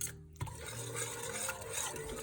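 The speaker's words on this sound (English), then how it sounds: "I whisk it until it's done." A whisk stirs gravy in a pot for a classic pot roast, a close, busy scraping and swishing against the pan that runs continuously without voices.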